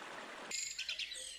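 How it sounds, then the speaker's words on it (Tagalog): A burst of rushing noise cuts off abruptly, leaving high bird chirps and tweets in a quiet woodland setting. "tunog ng kakahuyan"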